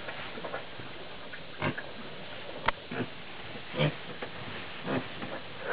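Ossabaw pigs grunt and snuffle nearby in short, scattered bursts over a quiet, hissy background, with a few sharper snorts spaced a second or so apart.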